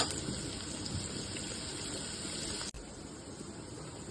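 Onions sautéing with a little salt in a pan, a steady hiss and crackle that holds at a constant, moderate level with a brief dip partway through and no voices.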